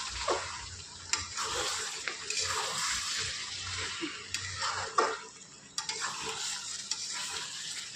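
Chicken curry cooking in a pan as hot water is added, with a continuous bubbling sizzle and splashing, stirring scrapes and occasional clanks of a spoon on the pot, close and moderately loud.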